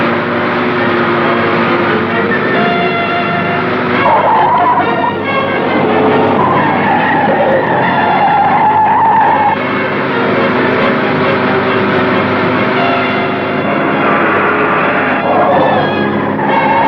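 A car races fast in a chase scene from a classic Hindi film, its tires squealing and skidding loudly and almost continuously over a roaring engine, with no speech.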